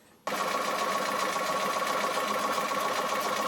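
A sewing machine stitches together two quilt pieces, starting abruptly after a brief quiet moment and then running as a steady, fast, even whir until it stops at the end.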